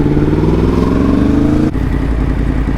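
A diesel vehicle runs just ahead in a Chichester street, a close, steady engine drone with a slowly climbing tone, broken by a short click midway before it settles back to a constant rumble.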